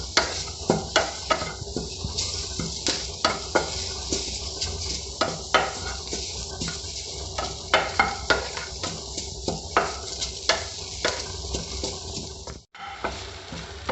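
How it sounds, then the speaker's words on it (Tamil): A handful of curry leaves fry in a pan for veldt grape chutney, and a spoon scrapes and clinks against the pan in a regular rhythm over a continuous sizzle. A sharp drop to near silence comes near the end. "ஒரு கைப்பிடி அளவுக்கு கருவேப்பிலை எடுத்துட்டு இது நல்லா வறுக்கணும்."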